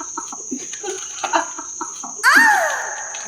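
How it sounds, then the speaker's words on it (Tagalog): Crickets chirp at night around an old abandoned house, a steady high insect drone running throughout, with a sudden louder rush of sound near the end. "Ang ingay ng mga kuliglig niya, ha?"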